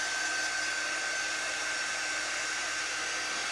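A hair dryer blows steadily on a craft transfer, a constant loud whooshing hum with a high whine and no breaks or voices.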